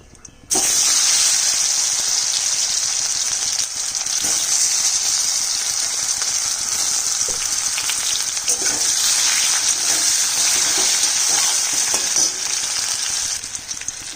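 Boiled potatoes frying in hot oil tempered with cumin seeds, a bay leaf and a dried red chilli give a loud, steady, dense sizzle that holds unbroken for the whole stretch, close up and with no talking.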